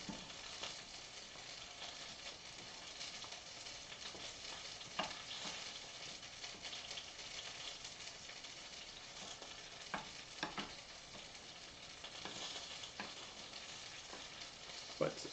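Mac and cheese made with Velveeta simmering in a pan, a faint continuous bubbling sizzle with occasional soft pops and stirring sounds, quiet throughout.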